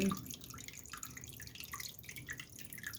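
Water trickles and drips steadily from a homemade fountain built from an old millstone joined to a water channel, a soft continuous splashing with small droplet patter throughout.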